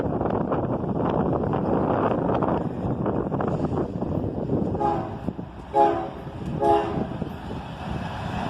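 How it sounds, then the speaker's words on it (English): BNSF locomotive horn salute, ES44DC leading, sounding from a train passing during a parade: a sustained low rumble of the passing train under wind noise, followed by several short chord-like horn blasts toward the end. "a nice little horn salute there from the engineer"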